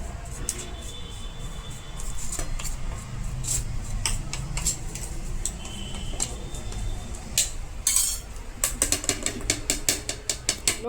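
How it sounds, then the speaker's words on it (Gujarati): A spoon breaks up lumps in khaman dhokla gram flour, making a run of quick close clicking and scraping taps, with a rapid rhythmic burst of ticking strokes near the end. "જે આ ગાંઠા છે તેને પણ આપણે ચમચી વડે ભાંગી લેશું."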